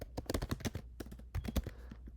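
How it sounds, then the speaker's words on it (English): Someone types on a computer keyboard while writing CSS code, two quick bursts of clicking keystrokes with a short pause between them, close and fairly quiet, no talking. "I could copy and paste, but let me practice the typing."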